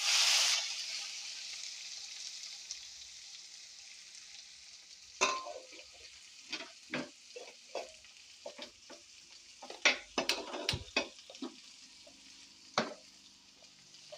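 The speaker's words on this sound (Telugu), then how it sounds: "కొద్దిగా వేగగానే ఉల్లిపాయ ముక్కలు వేసేసుకుందాం" Mustard seeds and onion pieces fry in a pan, a soft steady sizzle broken by sharp pops and stirring clatters that grow busier midway.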